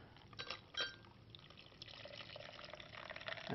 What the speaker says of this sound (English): And so I'm going to pour the water in.